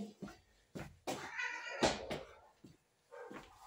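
A house cat meows several times in short, close, moderately loud calls with brief pauses between them, heard alone without talking.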